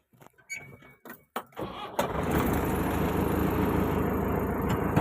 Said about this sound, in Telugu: మనమైతే బండి అయితే స్టార్ట్ చేసేద్దాం ఇప్పుడు